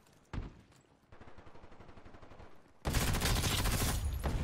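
Gunfire in the video game First Assault Online: a single shot, then a rapid regular burst of automatic fire, followed by a louder, denser volley of overlapping shots, with no voices.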